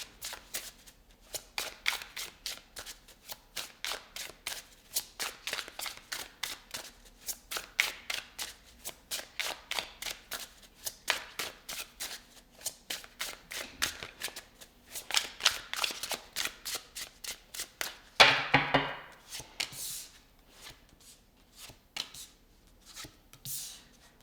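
Tarot cards shuffle in a rapid, steady run of crisp riffling flicks and taps, close and soft, with a brief louder rustle partway through as cards are pulled.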